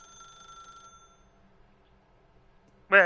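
An electronic telephone trill rings in the video game The Stanley Parable, fades out, and is followed after a quiet pause by a short, loud burst of voice.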